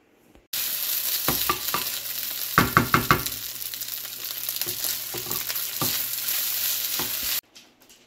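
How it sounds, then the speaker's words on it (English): Shredded cabbage and carrot frying for vegan fried rice, a loud steady sizzle with bursts of quick spatula clatter and stirring knocks against the pan. "We are going to make some fried rice."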